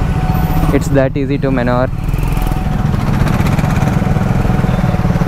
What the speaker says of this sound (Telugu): let's hear the exhaust